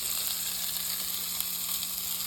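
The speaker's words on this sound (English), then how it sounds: "Start toasting our bagels." Bagels toast on a hot cooking surface with a steady, close, continuous sizzle and no voices.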